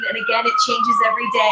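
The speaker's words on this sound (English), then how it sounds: "Sorry for the sirens, if you can hear that. New York City." Emergency vehicle sirens wail steadily on a New York City street, fairly loud and continuous beneath a person speaking.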